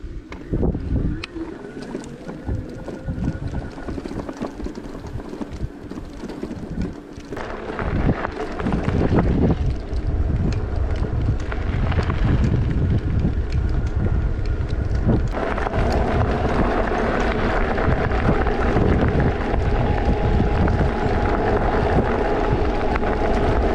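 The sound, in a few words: wind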